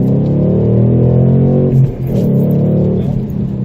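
A Ford Mustang engine pulls hard and steady, close up, with a brief dip in the drone as it shifts into third gear before the revs climb again.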